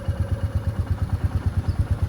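A motorcycle engine chugs close by with a low, steady pulsing thump as the clutch is eased out slowly and the bike begins rolling forward, with no one talking.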